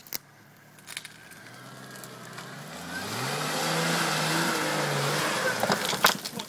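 A jeep on an off-road expedition revs its mid-sized engine, rising from a low idle to a sustained strain that grows louder and nearer, with a few knocks and bumps toward the end.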